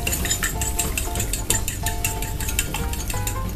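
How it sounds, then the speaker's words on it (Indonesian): Eggs being beaten with a utensil in a bowl for chicken siomay, a rapid, rhythmic run of close metallic clinks and taps against the bowl, loud and steady with no speech. "Kocok telur."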